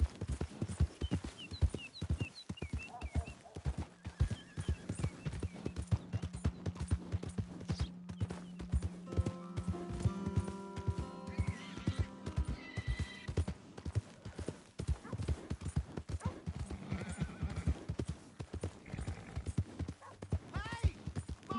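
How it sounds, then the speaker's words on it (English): Horse hooves clip-clop steadily in Red Dead Redemption 2, with a whinny partway through, all set among game ambience and music, and a voice speaks briefly. "Hey! My horse!"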